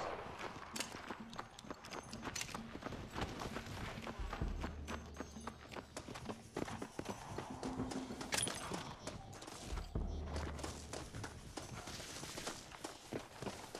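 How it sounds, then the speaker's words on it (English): Steady clip-clopping of horse hooves over a constant rumbling background, with occasional low thuds, continuing throughout, in Red Dead Redemption. "Looks like Carlos left us some horses"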